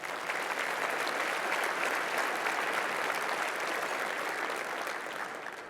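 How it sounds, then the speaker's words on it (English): Sustained applause from a luncheon audience at a Navy League awards event, a dense, steady wash of many hands clapping that continues at an even level from start to finish, with no one speaking over it. "let's give them a round of applause"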